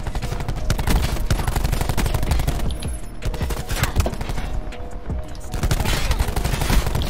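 Rapid gunfire in Call of Duty Black Ops 4, dense bursts of shots with a brief lull near three seconds, loud and continuous throughout with some voice in the mix.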